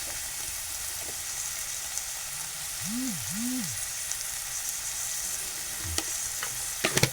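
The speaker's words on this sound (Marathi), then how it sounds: "आता याच्यात मी थोडंसं परतून घेणार आहे" Onion, tomato and potato sauté in a pan with a steady close sizzle and hiss, occasional stirring clicks and scrapes, and a brief tonal chirp in the middle.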